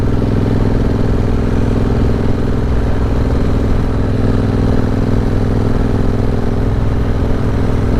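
Triumph Bobber motorcycle engine running steadily and loud throughout with an aggressive throttle setting, a continuous close mechanical drone with no talk.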